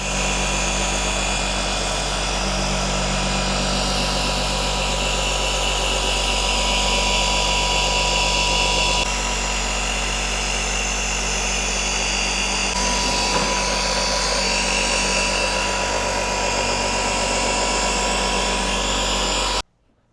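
A Flex gear-driven dual-action polisher runs continuously during car paint enhancement, a loud, steady mechanical whine and rumble close by, with slight shifts in tone as pressure changes and no talking.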